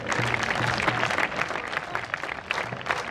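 An audience at the Boscoree 2018 peace rally inauguration claps in a sustained, dense burst of applause that stays fairly even throughout, with a faint voice briefly over it.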